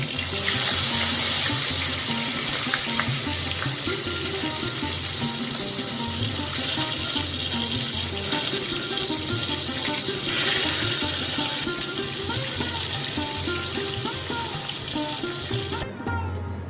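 Bhetki fish pieces frying in hot oil for a kalia give a continuous dense sizzle like running tap water, close and loud throughout, easing only at the very end.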